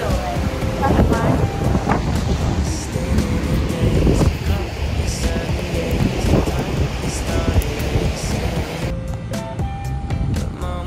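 Ocean surf rolling onto a beach in Sydney on an overcast day after rain, a steady broad wash of waves mixed with wind buffeting the microphone, with someone talking over it and a few tonal sounds near the end.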